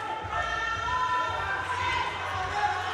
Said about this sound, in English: Michael House's crowd making themselves heard at the moment in the background